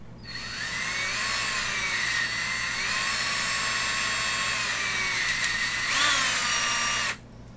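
A small power drill bores into a plastic Warhammer 40k miniature bike to seat a magnet, a steady high whine held close for about seven seconds before cutting off abruptly.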